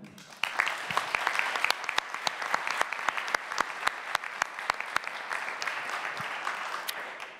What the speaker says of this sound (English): So, please, a big applause to them.